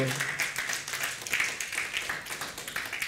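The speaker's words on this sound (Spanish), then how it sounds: "¿Cuántos podemos darle un aplauso al Señor?" A church congregation claps together in a steady, soft burst of applause, a dense patter of hands heard from the middle of the room.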